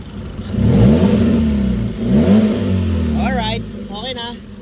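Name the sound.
Hyundai Accent car engine revving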